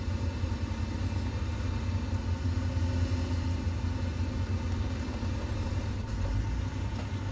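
A truck engine in a driving simulator game rumbles steadily with heavy low-end drone as the throttle is held, a continuous loud growl with no talk.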